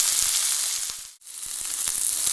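Pork chops sear in a hot pan, giving a steady, close sizzle with scattered pops and crackles, broken by a brief quiet dip midway before the frying hiss returns.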